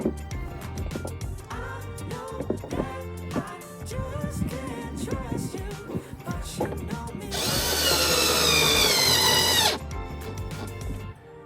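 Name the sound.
power tool tightening screws on Polaris Ranger pulse bar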